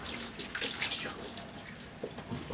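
A head dunked into a bucket of water makes a soft, continuous splashing and sloshing at low volume, with burbling water movement throughout and no voices.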